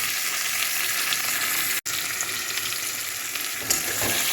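Tomatoes frying in a pan over browned onions, a steady loud sizzle with faint stirring, broken once by a very brief dropout.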